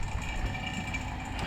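A vacuum pump runs steadily on a car's A/C system, a constant mechanical drone with a faint rhythmic ratcheting texture, close by and unbroken.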